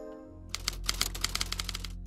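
A typewriter clacks through a quick run of sharp key strikes, fairly faint, rhythmic and slightly uneven, over a low background hum.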